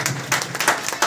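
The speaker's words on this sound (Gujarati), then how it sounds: "આ કંપની માટે જોરદાર તાળી દેજો" An audience breaks into applause for a company at a business income-plan presentation, with clapping surging in several loud bursts over about a second.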